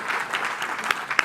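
Light, scattered applause from a small audience at a trade opportunities event, moderately faint with a couple of sharper individual claps near the end.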